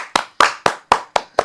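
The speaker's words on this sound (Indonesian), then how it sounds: "Tepuk tangan dulu buat Maya." Six distinct, close hand claps in a slow, even rhythm from an audience on a talk show, each crisp and loud with short silent gaps between.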